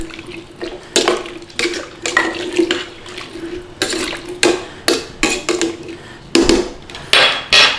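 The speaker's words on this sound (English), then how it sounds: "Give that a little stir in there." A spoon stirs soup in a cooking pot, giving a close, uneven run of scraping and clinking strokes with short pauses between bursts.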